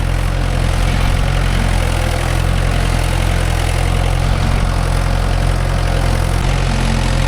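A Mahindra 575 DI tractor engine running loud and close while pulling a nine-tine cultivator through dry farmland, a steady unbroken diesel drone with a deep low throb for the whole stretch.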